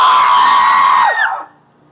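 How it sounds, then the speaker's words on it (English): A single sustained, loud excited scream held steady for about a second, then breaking and trailing off into quiet, heard alone without talk, in a kitchen while using a microwave. "That was excitement scream."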